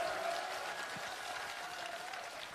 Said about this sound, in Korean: 세 분을 위해 큰 박수 좀 부탁을 드립니다.